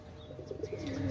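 Royal Teddy pigeons cooing softly in a short run of low, rounded calls, a few faint chirps mixed in, close by and fairly quiet with no talk.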